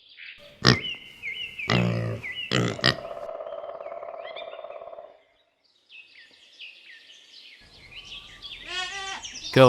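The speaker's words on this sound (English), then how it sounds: "Pig." A pig grunts and snorts in a few rough bursts followed by a longer nasal grunt, then fainter squeals and chirpy sounds after a short silence.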